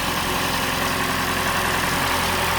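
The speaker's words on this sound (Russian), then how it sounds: "Двигатель работает отлично," A 2018 Toyota Camry 70 hybrid with its 2.5 engine runs at a steady idle, a constant low hum and vibration heard close up with no talk.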